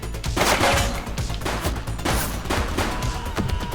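Dense bursts of rapid gunfire from a police shootout in The Precinct, loud and close, firing in repeated volleys with almost no pause.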